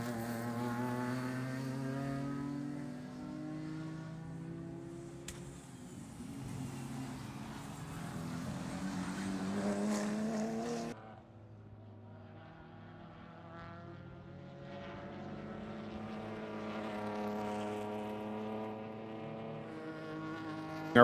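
Race cars lap the Sebring circuit, Porsche and Mercedes among them, their engines droning and rising in pitch as they pass, one fading before another approaches, steady and moderately distant with no talk.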